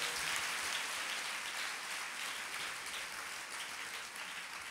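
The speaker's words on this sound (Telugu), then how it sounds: "చప్పట్లు కొట్టండి గట్టిగా, హుషారుగా కొట్టండి గట్టిగా" A church congregation claps loudly and continuously, a dense, steady wash of applause that fills the space throughout and fades very slightly toward the end, with no clear speech.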